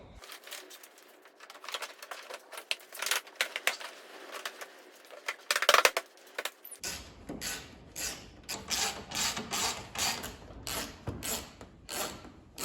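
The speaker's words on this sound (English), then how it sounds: "tightening up screws and bolts" Tools fasten screws and bolts while a bumper is refitted to a 2010–2015 Cadillac SRX, a run of quick ratcheting clicks in close bursts, faint at first, then louder and more rhythmic in the second half.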